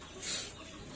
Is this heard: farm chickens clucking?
yes